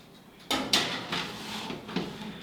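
An oven door swings open and a tray of oatmeal cookies slides in, making a short series of clattering metallic knocks and thuds close by in a quiet kitchen.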